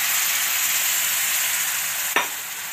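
Strained jaggery syrup poured into roasted wheat flour in a hot pan for a wheat flour sweet gives a steady, loud sizzling hiss throughout, with one sharp splash-like burst near the end; no one speaks.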